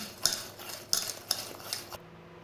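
A whisk or spoon clinks and scrapes through cake batter for a torta mimosa while cold milk is poured in, with four or five distinct metallic strokes against the bowl, close and moderately loud, with no talking.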